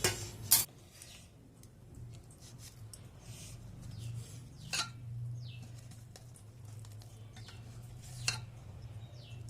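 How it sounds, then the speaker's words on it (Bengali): A knife cuts through a soft spinach and gram-flour (besan) mixture in a home kitchen, making a few faint, sparse taps and clicks against a low steady background hum. "এবার এটা আমি একটা ছুরি দিয়ে কেটে নেব।"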